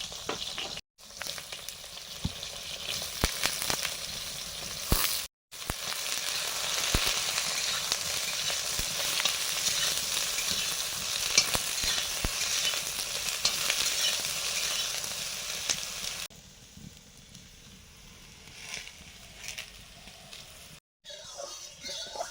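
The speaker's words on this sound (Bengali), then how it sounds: "বেগুনগুলো আগে ভেজে নিচ্ছি, অল্প একটু হলুদ দিলাম।" Eggplant pieces fry in oil with a little turmeric in an iron wok, a loud steady sizzle broken by brief gaps, quieter toward the end, with faint background noise.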